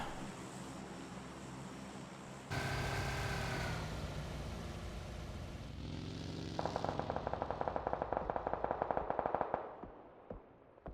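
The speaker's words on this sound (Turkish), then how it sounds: "Yukarı tarafta DMR atışlarımız, keskin nişancı tüfeği atışlarımız ee, devam ediyor." Rapid gunfire from DMR and sniper rifles in the battle royale game PUBG, a dense run of sharp repeated shots over a steady background hum, growing busier and louder toward the end.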